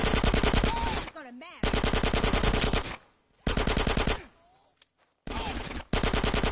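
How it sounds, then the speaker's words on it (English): Sustained bursts of automatic gunfire in the video game GTA San Andreas, loud and rapid, arriving in three long volleys separated by brief gaps of near silence. "Get some suppressing fire in there."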